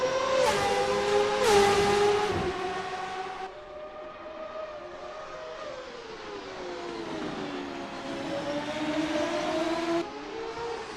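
Open-wheel race cars in a CART racing video game at Long Beach, along West Shoreline Drive, scream past with rising and falling engine pitch, a loud pass early on giving way to a sustained, shifting engine whine.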